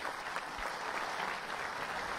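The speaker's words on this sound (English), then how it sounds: "Big round of applause for Grigor Dimitrov" A tennis crowd at the Boodles Challenge exhibition claps steadily after a set is won, a dense, even wash of applause with no voices on top.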